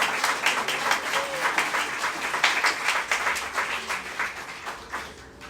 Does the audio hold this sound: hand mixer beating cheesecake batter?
no